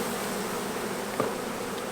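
Honeybees buzz around an open hive during an inspection, a dense continuous hum close by with a brief louder pass from a single bee.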